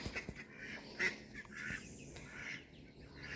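A small group of backyard ducks quack and honk softly in a scattered, overlapping chatter at middle distance, faint and continuous with no talking.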